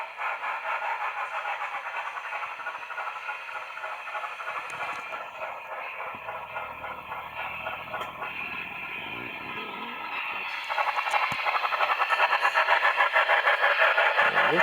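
An HO scale Union Pacific FEF-3 Northern model steam locomotive runs at full throttle indoors, giving a steady loud mechanical chuffing and whirring sound that intensifies near the end.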